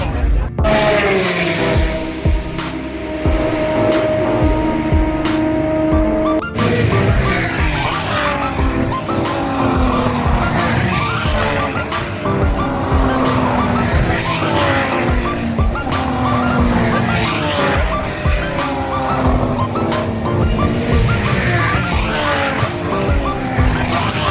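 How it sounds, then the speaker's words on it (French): Formula 3 race cars roar past again and again during qualifying at Spa, engines whining through repeated passes with rising and falling pitch, loud and continuous throughout. "là il y a la qualification des Formule 3 il me semble"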